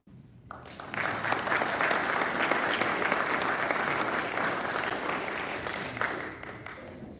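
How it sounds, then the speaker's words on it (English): A Rotary club audience breaks into applause, a dense, sustained clapping of many hands that starts abruptly, holds steady for several seconds, and then tapers off. "let's give Steve another round of applause"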